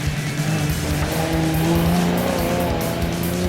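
An old Nissan Safari off-road race vehicle drives hard, its engine roaring loud and close with a steady, rising pitch and no talk over it.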